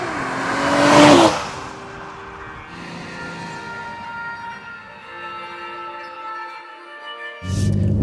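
A 2021 BMW M440i's straight-six engine pulls hard, a loud swell of rising engine tone early on, then a steadier drone before another surge at the end.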